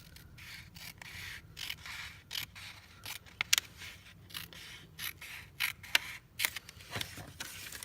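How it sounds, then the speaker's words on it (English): Scissors cut along a marked line on gift card craft material, making a series of short, crisp snips and slicing rubs at an uneven pace, close and fairly quiet with no talk. "So I have some scissors here."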